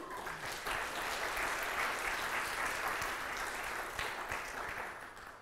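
Audience applause at a talk on security and deception by a magician and mentalist, a steady broad wash of clapping held for several seconds before tapering off at the end.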